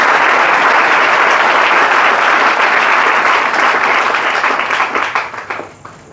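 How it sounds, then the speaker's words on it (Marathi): A large audience breaks into loud, sustained clapping at a gathering at a training academy, a dense continuous roar of hands that holds steady and then thins out and fades over the last second or so. "तर सरांना पुन्हा एकदा जोरदार टाळ्या वाजवून सरांचं हे करा"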